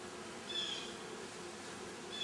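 Bees humming steadily around a hive, a soft continuous drone with a brief higher-pitched whine of a single insect passing close, faint and without voices.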